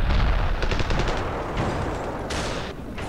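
Dense, continuous gunfire from a shooter game battle in Ravenfield, repeated rapid shots blending into a loud, sustained rattle with booming low end, no voices.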